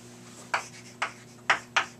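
A string is plucked repeatedly, first at full length and then shortened by half, giving four sharp, close plucks, each fading quickly in a quiet room.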